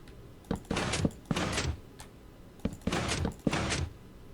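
A Minecraft piston-driven 3x3 cave door closing in the video game, heard as a quick series of mechanical piston pushes and slides, several short bursts in two clustered groups, close and crisp, no talk.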